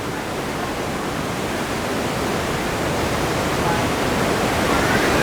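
Rapids of the Niagara River rush past a rocky, boulder-lined bank, a loud, steady, broadband roar of churning water that holds unbroken and close throughout.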